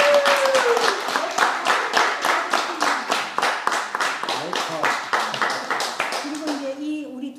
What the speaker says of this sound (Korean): 이분이 너무 귀해서 박수 한번 드리겠습니다